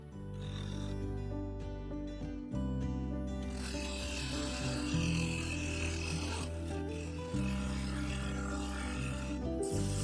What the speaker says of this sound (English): I used a skew chisel to cut a square edge to the raised foot, then I blended and faired the outer surface ready for sanding.